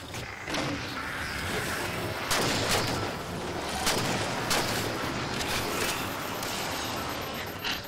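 Turret gunfire in the Halo 4 video game comes as a series of heavy booming shots over steady battle noise, loud and repeated at irregular intervals, with no talking.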